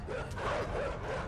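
Dogs in the video game Inside bark and yap in a quick cluster of short, wavering calls, fairly faint under a dull background.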